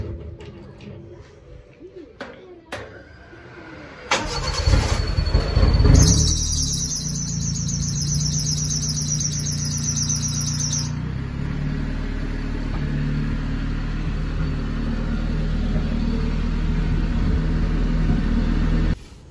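A car engine, named B2, starting after a fuel pump upgrade: a few clicks, then a cranking surge that catches into a steady close idle rumble with a high whine partway through, birds chirping faintly in the background.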